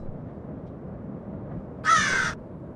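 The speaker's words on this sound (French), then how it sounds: "Les oiseaux, ils chantent." A single crow caws once, loud and close, a short harsh call standing alone over a low steady background hum.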